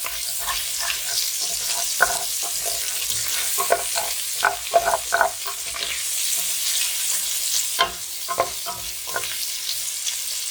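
Meatballs for Italian wedding soup browning in a hot pan, a steady close sizzle and frying hiss with scattered sharper pops and crackles throughout, no talking.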